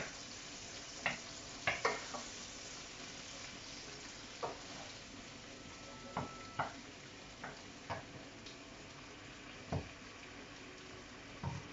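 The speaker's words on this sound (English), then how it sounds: "I'm going to mix up the tamarind paste a little bit because it's gone a bit to the bottom" A spoon stirs heavy tamarind paste that had settled to the bottom of a Sri Lankan-style curry pan, giving faint scrapes and light clinks at an uneven pace over a soft cooking sizzle.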